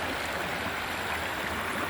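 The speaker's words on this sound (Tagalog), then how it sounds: "Ay sapa." Creek water rushes and flows in a constant broadband wash, close and moderately loud, with no distinct splashes or voices.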